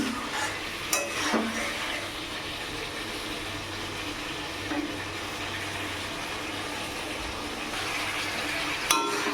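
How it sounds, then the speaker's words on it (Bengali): Spices sautéed in oil for a koi fish and cauliflower curry, sizzling continuously up close with scraping stirs and a few sharp utensil clinks against the pan. "যতক্ষণ না মশলার থেকে তেল ছাড়াচ্ছে মশলার গায়ের থেকে, ততক্ষণ মশলাটা কষাতে হবে।"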